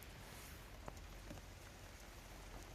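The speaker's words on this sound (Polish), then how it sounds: "Deszczyk pada, fajna pogoda." Light rain falls steadily at a worksite, a soft continuous patter of drops with a few sharper individual hits, fairly quiet and with no one speaking.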